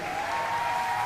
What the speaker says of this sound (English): And a big applause for Jocelyn Lamoureux Davidson.